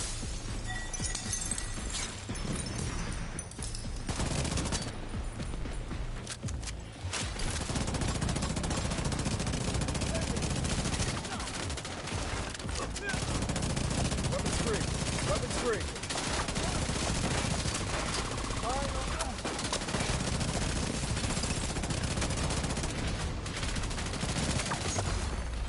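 Weapon fire in The Division 2 Battle for Brooklyn gameplay, with repeated bursts of automatic gunshots and scattered impacts running almost continuously over game noise, with a few brief lulls.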